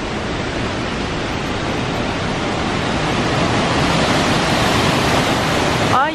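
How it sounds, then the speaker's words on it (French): A waterfall beside a small museum and an old mill, heard as a loud, steady roar of falling water that holds unbroken throughout with no talking. "Ah bah c'est là le musée de la chute d'eau, voilà, la chute d'eau."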